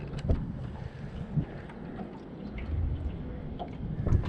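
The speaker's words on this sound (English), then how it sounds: "Oh, it's windy." Steady early-spring wind buffeting over open shallow water in Wisconsin, a continuous rushing roar with occasional gusty thumps against the microphone.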